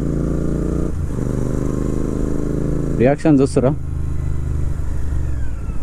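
A Royal Enfield GT650 motorcycle fitted with Red Rooster air filters rumbles steadily at low pitch on a ride through traffic, with a short spoken phrase and a brief warbling tone partway through.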